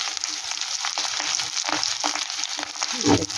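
Ingredients for pointed gourd mash fry in a pan with a continuous bright sizzle and crackle, close and fairly loud, with a scraping stir toward the end and no voices.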